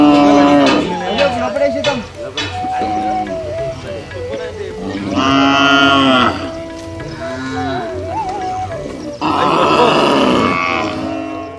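A herd of restless cattle moos loudly and repeatedly while scrambling for dry or green grass, with deep overlapping calls, grunts and shuffling, close and busy throughout.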